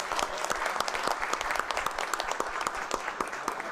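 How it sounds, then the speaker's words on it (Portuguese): Applause for a commission president at a bar association meeting: a crowd claps briskly and continuously, with sharp individual claps popping out of a dense, fairly loud wash, no voices over it. "Aqui uma salva de palmas à presidente Estefânia"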